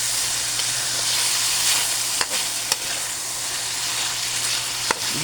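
Bean sprouts, string beans, tofu and pork sautéing in a pan, a steady dense sizzle broken by a few sharp spatula clacks against the metal.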